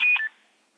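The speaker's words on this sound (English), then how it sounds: "And here's the timer, back to Jeff" A short electronic timer beep on an amateur radio digital net, two quick tonal pips in under a third of a second that then fade into near silence.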